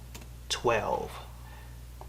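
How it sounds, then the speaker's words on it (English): A few light clicks of typing a year on a computer keyboard, faint and sparse beneath a person speaking close by. "I'm typing in the year."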